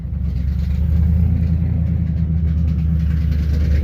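A Ford Mustang with a failing, clogged catalytic converter is driven forward, giving a steady low rumbling rattle that stays loud and constant throughout, with no talking.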